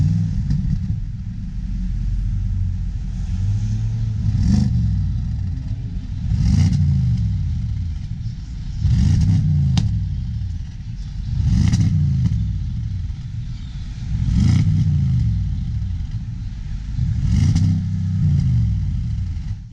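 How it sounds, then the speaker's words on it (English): An Audi S6's sport exhaust revs in repeated bursts every two to three seconds, each a deep, rumbling roar that swells and fades, with no talking. "that exhaust system sounds absolutely awesome"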